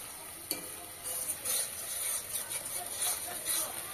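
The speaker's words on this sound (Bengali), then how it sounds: "এভাবে মশলাটা ভালো করে কষিয়ে নিতে হবে।" Masala with dried red chili powder and a splash of water cooks in a pan for chana paneer masala: a soft, faint sizzle broken by repeated close scraping stirs, with no talking.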